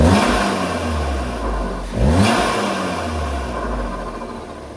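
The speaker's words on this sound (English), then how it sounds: "Let's turn on the car, let's see the initial startup" A 2014-era MK7 Volkswagen Golf R with a modified exhaust starts up and revs, a sharp rising flare around the middle that settles into a loud, close idle rumble without any talk.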